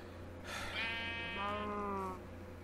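A sheep in the Minecraft SkyGrind skyblock map lets out a single clear, wavering bleat lasting about a second and a half, fairly quiet over a low background hum.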